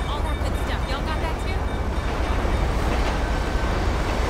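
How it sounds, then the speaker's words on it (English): A passing train in GTA V gives a steady, dense low rumble and rolling wash of noise throughout, loud and continuous with a faint hiss above, with no clear speech over it. "Hopefully she doesn't get picked up while the train's coming by here."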